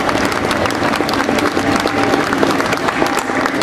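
Audience applauding at an award ceremony for a science-fiction comic-book prize at the Utopiales 2013 festival, a dense, steady wash of clapping from a large crowd, loud and sustained throughout with no speech.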